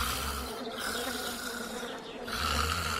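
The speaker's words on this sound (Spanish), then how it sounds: "Solo se oían los ronquidos y el zumbar de los insectos apiñados bajo la frescura de las grandes hojas verdes de las higueras" Snoring mixed with buzzing insects crowded under the shade of big fig trees, a soft droning hum with breathy swells near the start and end, fairly quiet.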